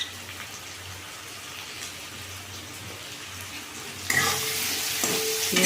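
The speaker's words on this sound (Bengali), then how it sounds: "ভালো করে একটু কষে নেব" Spices with red chilli powder and turmeric sautéing in a pan for a Bengali mutton and potato curry, a steady soft frying hiss that turns louder and brighter in the last stretch.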